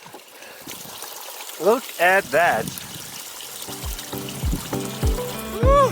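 Cold spring water trickles and gurgles steadily at a desert water source on the Pacific Crest Trail, a soft continuous flow beneath an excited hiker's voice.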